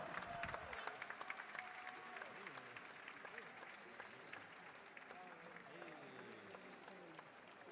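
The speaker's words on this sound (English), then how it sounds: "Round of applause for our winners and the new national champions, Team Yellow, Kyle Perry and Martin Vecchio." Crowd applause at a national track cycling championship: a continuous wash of clapping and cheering in a large venue, faint overall with voices mixed into the noise.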